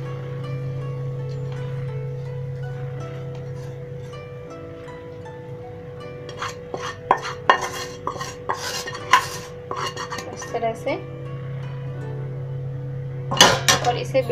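Coconut barfi mixture scraped out of a pan into a metal vessel, giving a run of clinking, scraping metal utensil knocks that grows busier midway, over a steady low kitchen hum.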